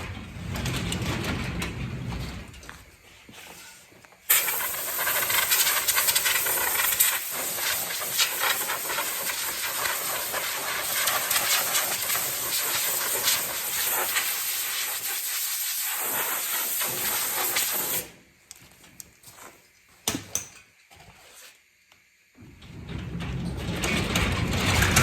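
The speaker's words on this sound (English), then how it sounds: "I'll start up the compressor." An air compressor's air line blows out old shop dust filters with a loud, steady, close hiss that lasts about fourteen seconds, then cuts out, leaving quieter handling sounds and short spurts.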